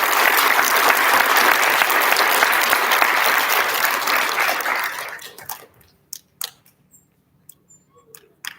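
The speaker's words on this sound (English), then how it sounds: "Nice big round of applause for our third grade." An audience at an elementary school recognition ceremony applauds loudly and densely for about five seconds, then the clapping thins to a few scattered claps.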